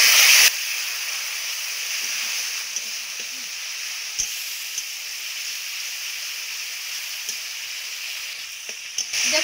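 Strained yogurt goes into a pan of spiced masala, and a loud, continuous close-up sizzle and hiss of frying follows, steady throughout, with a few faint clinks of utensils.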